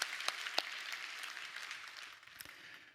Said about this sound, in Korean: 우리 박수로 하나님 앞에 영광 돌리겠습니다.